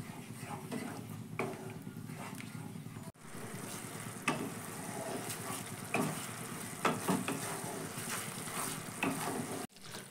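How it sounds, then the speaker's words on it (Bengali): A spice paste with yogurt sautés over a raised gas flame, a soft, moderately quiet sizzle with scraping stir strokes and knocks, briefly cut off twice, while a voice can be heard faintly at times. "গ্যাসের ফ্লেমটা কিন্তু একটু বাড়িয়ে দিয়েই দইটা কষিয়ে নিতে হবে"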